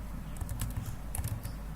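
Light, rapid tapping of fingers on a computer keyboard while entering a word into a C program, soft and close, with a steady low hum beneath.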